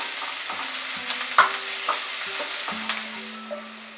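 Chopped onions frying over a high flame for birista, a steady bright sizzle with a spoon repeatedly stirring and scraping the pan in short knocks.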